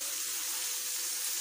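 Chicken fries in a pan with salt, red chilli powder and coriander powder, giving a steady, close, even sizzle and hiss that carries on without a break and with no voices.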